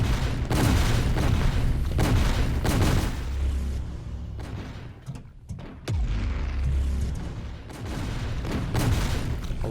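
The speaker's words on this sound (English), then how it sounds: "A lot of grenades being thrown" Grenades bursting in the online shooter Sector's Edge, a string of loud booming blasts with rumbling low ends, clustered in bursts with brief lulls between them.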